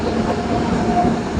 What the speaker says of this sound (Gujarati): આપણે ટ્રેન આવી ગઈ।